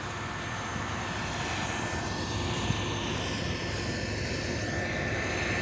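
A combine harvester at work during the grain harvest, direct combining with unloading on the move, giving a loud, steady engine drone with constant broadband mechanical roar and no talk.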